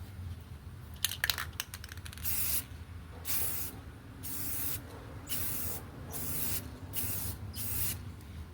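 Short hissing bursts of a spray can coating a Toyota Corolla's headlight plastic, several quick puffs first, then a series of longer, evenly spaced sprays, close and fairly quiet.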